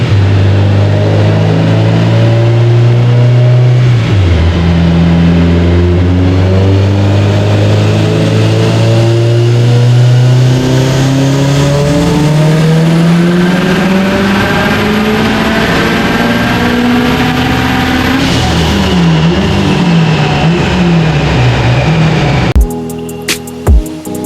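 Subaru Forester STI engine revving before a dyno session, rising and falling repeatedly in long sweeps, loud and close, then cutting off abruptly near the end; no talking over it.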